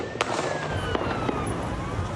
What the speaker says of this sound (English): Terrified beachgoers run for their lives as shot after shot rings out.